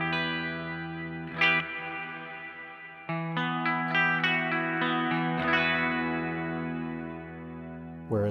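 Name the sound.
Mad Professor Kosmos reverb pedal at a moderate setting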